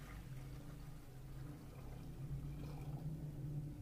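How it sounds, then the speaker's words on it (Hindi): Water poured into a cooking pot to make syrup for semolina halwa, a steady continuous low gush running for several seconds, close and moderately loud, with no talking. "इसमें हम डालेंगे 1 kg पानी का।"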